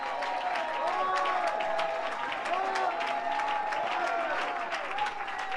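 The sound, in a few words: congregation applauding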